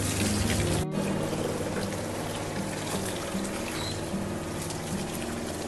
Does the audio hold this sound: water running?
yes